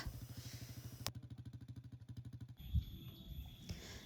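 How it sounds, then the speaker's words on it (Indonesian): A motorcycle engine putters at a steady idle nearby, then the rhythm breaks off into quieter rumbling with a brief clunk as it rides off. "Lanjut aku naik motor aja buat pulang ke rumah"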